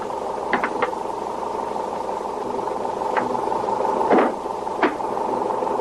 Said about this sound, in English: Oh, the motor's still running.